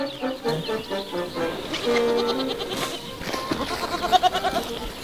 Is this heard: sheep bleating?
yes